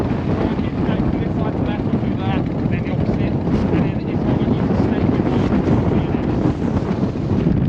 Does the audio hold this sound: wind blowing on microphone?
yes